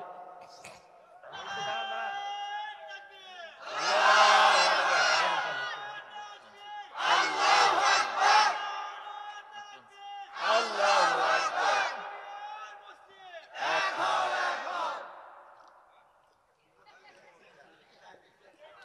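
A crowd at a Bengali religious sermon gathering shouts takbir in four loud collective bursts, each a sustained swell of many voices followed by a short pause, the last trailing off into faint murmuring.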